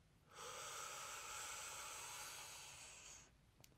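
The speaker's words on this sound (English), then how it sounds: "Breathe in," A slow, deep inhale drawn in steadily through a relaxed breathing exercise, a soft breathy hiss swelling close to the mic for about three seconds, then stopping, with no talk over it.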